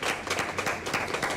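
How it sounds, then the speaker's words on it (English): Brief applause from a congregation at a church gathering for Pastor Rosalind Ashwood, a quick burst of clapping at moderate distance that flutters unevenly for just over a second. "Give her a round of applause."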